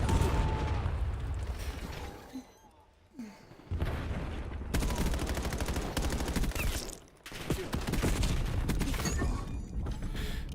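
Rapid video game gunfight with sustained bursts of automatic gunfire, loud and dense, dropping out briefly twice before resuming.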